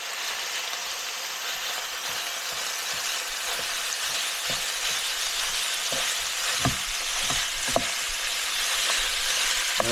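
Sausage sizzles steadily in a hot pan for a Tex Mex chicken and sausage stir fry, a constant loud frying hiss with occasional clicks and scrapes of stirring near the end.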